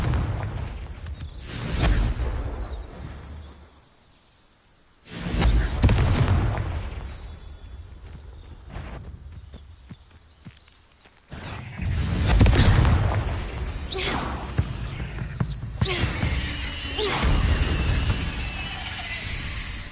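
Confringo fire spell blasts in Hogwarts Legacy, several loud booming explosions that each swell and decay, separated by quieter gaps and followed by rumbling bursts.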